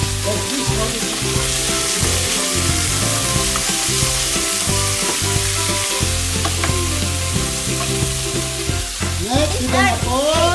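Chop suey sizzles and fries over high heat while it is stirred around a pan, making a loud, continuous crackle with rhythmic scraping and clattering from the utensil.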